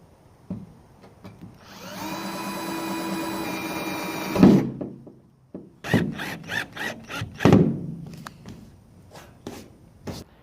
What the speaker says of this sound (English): it's time to drill into my roof